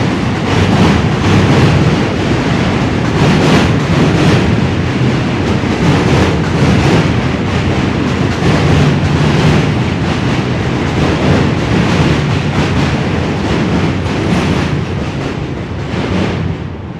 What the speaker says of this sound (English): Two Q trains going up over the bridge.